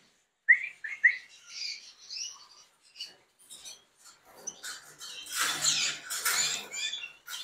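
Caged canaries chirp and tweet in quick, high bursts, some close and sharp, others fainter, with rustling and fluttering movement between calls.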